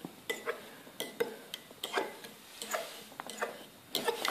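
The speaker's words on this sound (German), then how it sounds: "Ja, dann so lange umrühren, bis das alles eine Konsistenz ist." A spoon stirring a mixture in a bowl, producing a steady series of light clinks and scrapes in an irregular rhythm, close and fairly quiet, with no voices.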